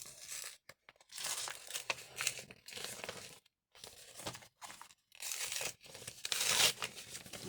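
A paper card envelope being opened, with soft bursts of paper crinkling and tearing broken by short pauses, quiet and close, no talking.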